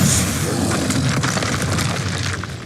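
Bombarda spell explosion in the Hogwarts Legacy game, a loud booming blast with a rumbling, crackling tail that fades slowly.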